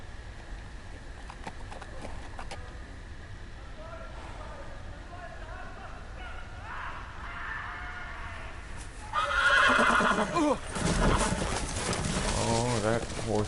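Horse whinnies and clip-clopping hooves sound through a busy ambience with chirping birds in the Telltale Game of Thrones video game, followed by a louder burst of noisy action near the end.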